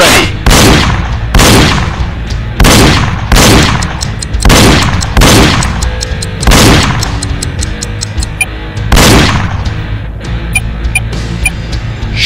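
Gunshots from the Wii shooting game Reload, loud sharp reports firing in a steady rhythm roughly every second, each with a brief ringing tail, close and prominent with no talking.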